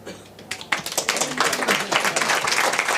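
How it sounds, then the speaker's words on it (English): Audience applause for a speaker at a European innovation funding session starts after a brief quiet moment, quickly building into close, dense clapping that stays strong to the end. "He deserves also your applause."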